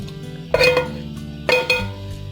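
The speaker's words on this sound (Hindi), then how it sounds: "अब इसको बर्तन में डाल लेंगे" A utensil clinks twice against a pot as a cooked cheese mixture for fried cheese puffs is transferred, two sharp metallic knocks about a second apart, close and clear over a quiet background.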